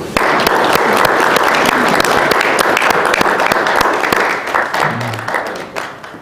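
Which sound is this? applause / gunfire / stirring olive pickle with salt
applause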